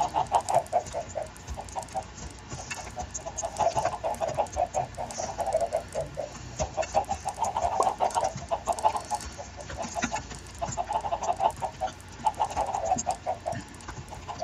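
A flock of Minecraft chickens clucks steadily, many soft overlapping clucks in a continuous, busy chatter that stays fairly close and even throughout, with no speech.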